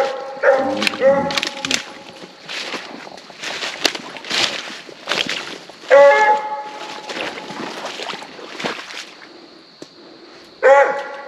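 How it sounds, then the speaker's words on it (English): A coonhound bays on a night hunt in Louisiana with a few loud, drawn-out barks spread across the clip, mixed with footsteps crunching through brush and people talking nearby. "She's just barking."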